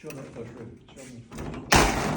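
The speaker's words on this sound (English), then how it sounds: "if you want to raise the whole door up, you close this back. And then boom, Seaplane door assembly is up against the wing." A PA-12 seaplane door assembly swings up and thuds against the wing, a sharp loud impact near the end following quieter handling noises and faint talk.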